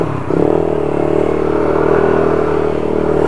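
A Yamaha NMAX V1 scooter engine runs close by at a steady idle, a loud, even, low drone with a faint rattling texture that holds for a few seconds without revving and with no talking.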